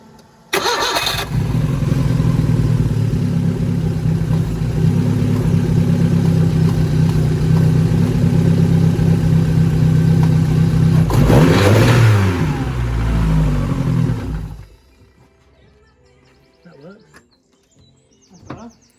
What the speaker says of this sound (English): So I'm going to start it up, just see what the engine rocks like